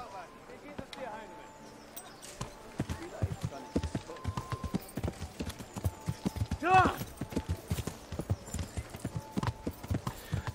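Rhythmic clip-clop of horse hooves at a steady trot in the video game Kingdom Come: Deliverance, with a brief whinny midway and a voice talking over it.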